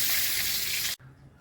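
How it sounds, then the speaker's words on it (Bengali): Cumin seeds crackle in hot oil with a loud, bright sizzle that cuts off sharply partway through and leaves a quiet, low hiss. "জিরে ফোড়ন করলাম,"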